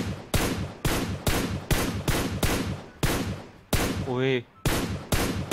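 Gunfire in PUBG Mobile, about a dozen sharp, loud single shots fired in a steady rhythm roughly half a second apart, with one short pause where a man gives a brief exclamation.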